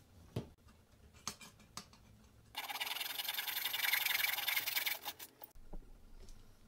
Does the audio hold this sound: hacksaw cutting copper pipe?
yes